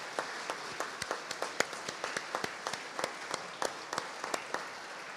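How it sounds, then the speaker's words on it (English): Audience applause at a documentary launch on Fromelles, a dense, steady clatter of many hands clapping with sharp individual claps standing out, at moderate volume without speech. "one more round of applause for the great effort"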